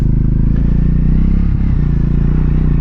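A Triumph Speed 400 motorcycle idles and pulls through a full-lock U-turn on a roughly six-metre-wide road, its steady single-cylinder thrum loud and close, with a brief dip and change in engine note partway through.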